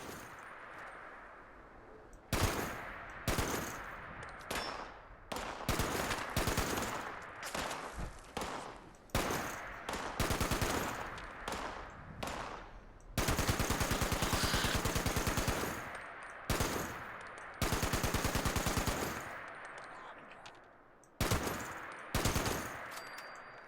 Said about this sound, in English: See, I shot it through the floor and got him.